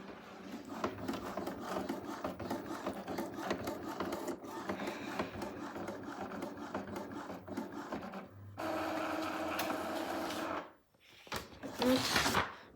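An inkjet printer running a nozzle check makes close mechanical whirring and rubbing with rhythmic carriage movements, a brief pause, then louder shuttling, quiet overall with no clear talk.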